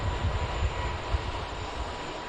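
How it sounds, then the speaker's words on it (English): An EasyJet airliner lining up on the runway at Manchester Airport, bound for Malaga: a steady, broad jet-engine roar with low rumbling, heard from a distance and continuous throughout, with no voices. "EasyJet lining up then, heading out to Malaga"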